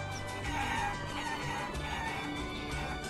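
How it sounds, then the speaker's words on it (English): A large flying chicken in a video game crows like a rooster, in drawn-out cock-a-doodle-doo calls at moderate volume over a steady, busy game soundscape. "Our large flying chicken lives in a house nearby."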